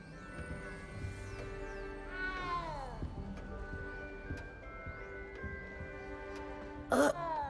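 A small cat in the video game Hogwarts Legacy meows repeatedly, with several drawn-out rising and falling mewls over a steady game soundtrack and a sharp burst near the end.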